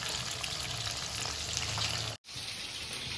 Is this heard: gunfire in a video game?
no